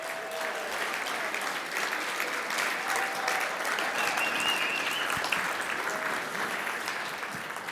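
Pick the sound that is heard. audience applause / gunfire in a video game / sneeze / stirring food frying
audience applause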